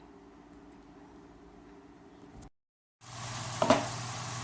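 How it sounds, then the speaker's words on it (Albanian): Chopped onion frying in a pot, a steady low sizzle that breaks off briefly, then returns louder and brighter with a short clatter, no talking. "Kemi grirë qepën, edhe kemi me një tenxherë, e vazhdojmë e kaudisim derisa të arrijë ngjyra e artë që ne duam"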